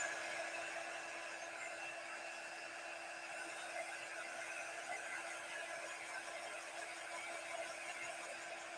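A quick-dry heat tool blows over a Chalk Couture transfer on a mason jar craft. It makes a continuous loud whirring blower hiss with a thin steady whine underneath, held at close range with no talking.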